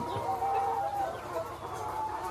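Egg-laying hens in cages at a layer farm cluck and murmur in a soft, continuous flock chatter, fairly faint and close, with no talk over it.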